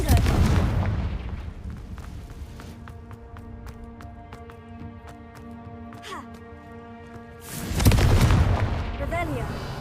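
A fiery blasting spell from the Hogwarts Legacy video game, with a heavy explosive boom at the start, a stretch of ringing, echoing tones and crackles, then a second loud roaring blast near the end.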